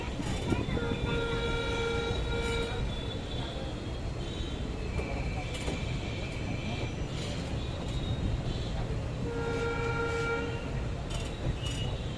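A Kashipur–Kasganj passenger train rumbles along steadily between Lalkuan and Bareilly with a continuous loud low roar, while a horn sounds in two sustained blasts near the start and again toward the end.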